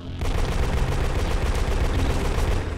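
Sustained gunfire in the Project IGI video game, blasting canisters at the SAM base: a dense, continuous barrage of loud shots and bursts filling the whole stretch with no pause.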